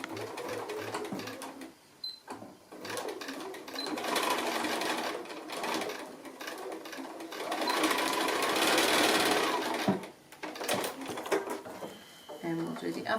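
A sewing machine runs a straight stitch across the corner of a fabric glasses case in short bursts of rapid mechanical chatter separated by pauses, with someone talking throughout.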